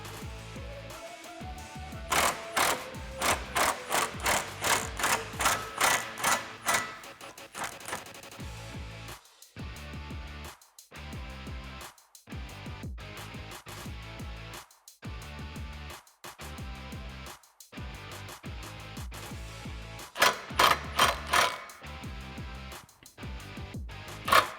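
Socket wrench with a 13mm socket and long extension ratcheting on the top shock bolts of a Jeep Wrangler TJ, rapid clicking bursts repeated in runs with pauses between, close and fairly crisp.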